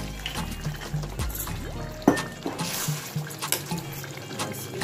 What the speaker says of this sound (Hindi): तो इसमें हम थोड़ा से पानी डालेंगे ग्रेवी के लिए